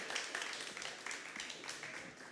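Audience claps for a conference speaker taking the stage, moderate, brief scattered clapping at mid distance.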